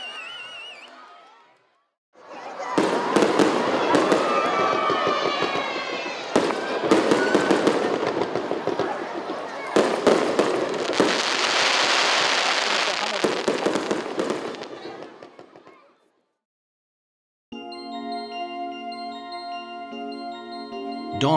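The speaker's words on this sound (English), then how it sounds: "followed by a colorful display of fireworks to mark the end of the night festival celebrations" Fireworks crackle and pop in rapid bursts for over ten seconds amid a crowd at the close of the Sunari night festival in Kanie, Aichi, with sharp bangs scattered through the sizzle, then silence and a musical tone.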